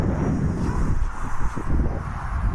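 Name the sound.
wind blowing during RC plane flight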